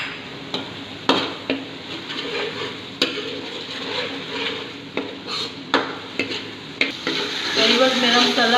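Chopped green chilies frying in masala for a rajma and lobia curry, with a steady sizzle under repeated sharp scrapes and knocks of a spoon stirring against the pot, close and fairly loud, no voices.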